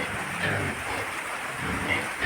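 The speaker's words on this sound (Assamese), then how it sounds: "পুৰা বৰষুণ গাইছ, আৰু হ'লে একদম ধুনীয়া বৰষুণ গাইছ" Heavy rain pours steadily at a rural farmhouse, a dense continuous hiss with no gaps, fairly soft and even throughout.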